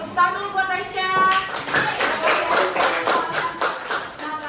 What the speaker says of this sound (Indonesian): Tepuk tangan dulu buat Aisyah.